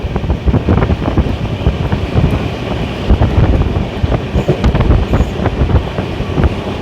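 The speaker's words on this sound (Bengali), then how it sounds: "তার মাঝখান দিয়ে ছুটে চলেছে আমাদের ট্রেন।" A train runs through tea gardens in the rain with a loud, continuous rattling rumble, and wind buffets the microphone throughout.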